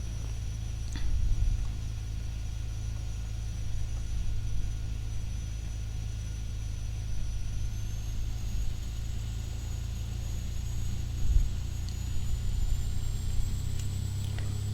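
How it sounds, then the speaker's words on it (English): A Carenado B200 King Air turboprop taxies on a single engine in the X-Plane 11 simulator, giving a steady loud engine drone with a constant high whine throughout and no talk. "let's just see if we can taxi on a single engine."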